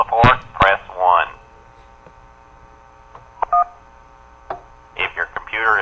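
Telephone keypad tones beep in a few short, sharp bursts, separated by quieter gaps with a low hum and a clicking line in between, in a phone-menu setting.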